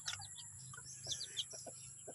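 Faint, high chirps from three-day-old chicks come in scattered bursts over a low steady hum, with occasional soft clucks in the background.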